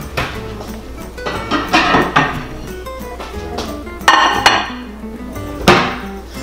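Metallic scraping and clinking as a tin of tuna is opened over a plate, with short bursts of tin and crockery clatter at close range.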